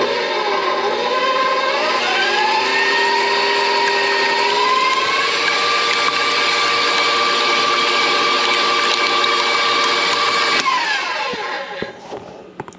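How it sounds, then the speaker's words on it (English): An electric beater whirs steadily at medium to medium-high speed through eggs and cream for a cheese quiche, a loud, continuous motor whine with a slight pitch rise early, then winding down and stopping near the end. "You want to beat your eggs at medium to medium-high speed."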